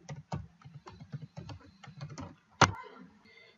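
Keys on a computer keyboard are tapped in a quick, close run of light clicks for about two and a half seconds, ending with one sharper, louder keystroke followed by quiet.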